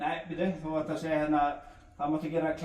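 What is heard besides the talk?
None of the usual background noises is heard.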